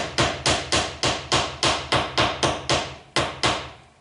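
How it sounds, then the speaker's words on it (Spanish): Small hammer tapping a hinge pin down into a door hinge, eleven sharp, evenly spaced metallic knocks in a steady rhythm, close and loud with nothing else heard. "vamos a ver si puedo darle un poquito más abajo con este pequeño martillo que tengo aquí"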